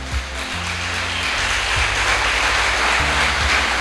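A church congregation applauds during a service, a steady dense wash of clapping held at an even level over a low droning tone underneath.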